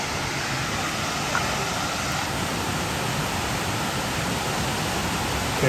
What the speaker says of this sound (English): I believe I can hear the falls on the other side of this large boulder here.